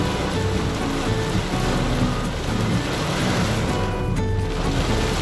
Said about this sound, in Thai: พายุครับพายุ